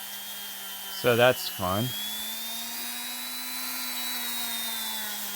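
A 3D-printed Lego Bionicle mask is sanded down with a power tool that gives off a steady, thin, high whine, droning continuously at close range while a person briefly speaks over it.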